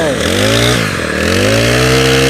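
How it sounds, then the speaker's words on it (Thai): A Honda brush cutter engine revs hard with the throttle held open, a loud, steady buzzing drone that dips briefly in pitch and then climbs back up, running continuously without any voices. "กดคันเร่งค้างไว้สัก 10 วิ"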